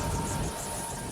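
A Cobra attack helicopter in military tactical training gives off a steady, dense engine-and-rotor roar that fills the whole clip at a constant loud level.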